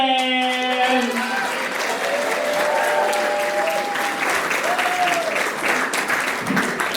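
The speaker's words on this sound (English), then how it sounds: "A big round of applause for Jeff Greenspan!" A comedy club audience in New York City breaks into steady, full applause and some cheering for comedian Jeff Greenspan, sustained clapping throughout while a host's voice rings out over it at the start.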